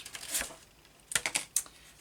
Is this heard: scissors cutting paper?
yes